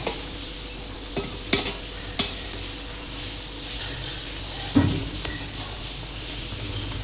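Chopped onion, green chilies and ginger cook in a pan with a steady soft sizzle, broken by a few sharp clinks and scrapes of a spoon stirring against the metal.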